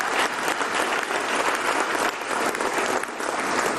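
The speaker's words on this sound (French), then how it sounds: "Je vous demande, s'il vous plaît, d'applaudir le patron de la CNPS." A crowd applauds the head of the CNPS at the 2022 Cameroonian Ballon d'Or ceremony, with loud, dense, steady clapping filling the hall for the whole stretch, no voices on top.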